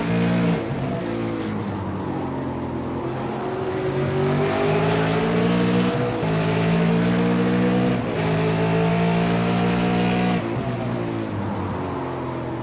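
GT race cars circling Brands Hatch GP in a sim racing game, with several engines droning loudly and steadily side by side down the straight, their pitches rising and falling as gears change throughout.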